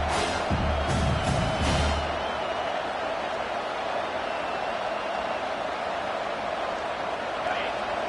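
Football stadium crowd cheering and roaring on a third-down defensive stand, a dense sustained wall of noise with a few louder whoops and bangs early, then steady broad crowd roar throughout.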